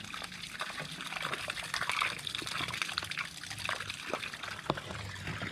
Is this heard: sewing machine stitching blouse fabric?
no